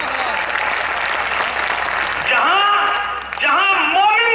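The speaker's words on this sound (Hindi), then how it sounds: "मुझे इजाजत दे तालियां बजा करके अपनी मोहब्बतों से।" Audience at a 2015 Moradabad mushaira claps in a dense, steady wash of applause, with a voice speaking over the clapping midway through and again near the end.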